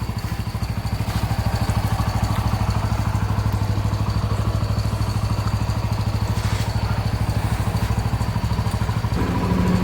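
A freshly repaired motorcycle engine idles in a garage at night with a steady, even putter that stays close and loud for the whole stretch and has no talking over it.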